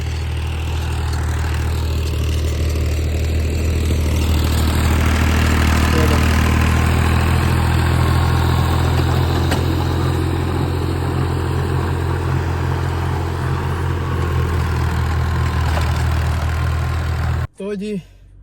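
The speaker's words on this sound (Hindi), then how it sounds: "ये देखें ये ट्रैक्टर चल रहा है गंदम की बिजाई के लिए" A tractor engine runs steadily in a field while wheat is sown, a loud, continuous low rumbling drone that cuts off abruptly near the end.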